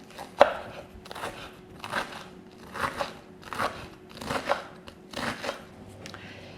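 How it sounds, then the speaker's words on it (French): Knife finely slicing little gem lettuce on a board for a chicken club sandwich, a steady run of about nine crisp crunchy chops, close and clear, with no talk. "Sucrine, je les découpe très, très, très finement."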